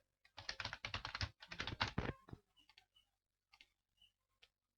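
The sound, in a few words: typing a password on a computer keyboard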